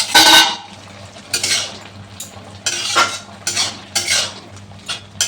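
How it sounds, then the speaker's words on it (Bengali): Lid lifted off a pot of drumstick and potato chorchori after ten minutes covered, a sharp metallic clink followed by several scraping clatters and pan knocks, close and fairly loud over a low hum. "এখন ঢাকাটা খুলে দিচ্ছি।"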